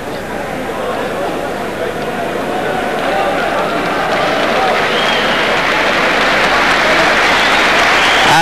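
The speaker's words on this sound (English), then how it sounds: "this sporting King's Hall crowd give a nice hand to the little man Bassa as he walks around the ring" A sporting King's Hall crowd at a WBA flyweight title bout between Fidel Bassa and Dave McAuley gives a steady round of applause that swells gradually, with a commentator talking over it.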